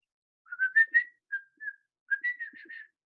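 A person whistles a short birdsong imitation, two phrases of quick rising and warbling notes separated by brief pauses, close and clear.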